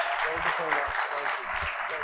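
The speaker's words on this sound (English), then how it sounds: "Round of applause again." Audience applause at a mortgage-industry technology presentation, a steady wash of clapping filling the whole moment with a brief faint whistle-like tone partway through.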